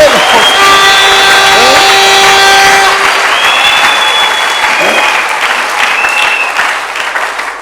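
A church congregation bursts into loud applause and cheering, dense clapping with shouts and whistles that gradually thins and fades over several seconds, voices calling out through it.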